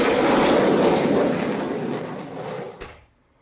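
HAL Tejas LCA fighter jet flying over Yelahanka Air Force Station, a loud broad engine roar that slowly fades, then a brief sharp knock before cutting off into quiet.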